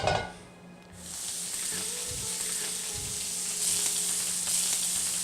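Italian sausage hits oil in a hot skillet with a sharp burst, then settles into a steady, bright sizzle that swells slightly later, with a few faint clinks of the pan.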